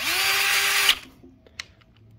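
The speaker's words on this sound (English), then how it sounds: "And then I like to use my power tool." Cordless power tool driving a steel bolt into an aluminium bracket while installing a SUR-RON electric bike power pedal kit, a loud whirring burst of under a second that stops abruptly, followed by a couple of faint clicks.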